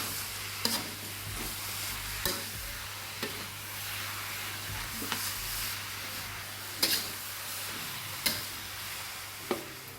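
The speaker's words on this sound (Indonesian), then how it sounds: "Ini kita tumis aja." Ground pork stir-fries in a wok with a continuous soft sizzle, broken by about eight sharp scrapes and clacks of a utensil spaced unevenly across the stretch, with no voices.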